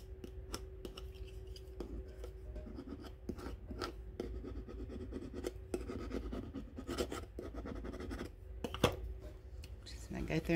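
Fingertips rubbing adhesive vinyl down onto a water bottle, faint close scratchy rubs and soft squeaks in quick irregular strokes, with a low background hum.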